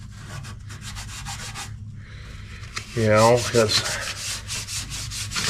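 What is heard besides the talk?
scuffing truck body with sandpaper before painting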